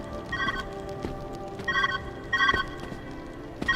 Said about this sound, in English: There's the phone.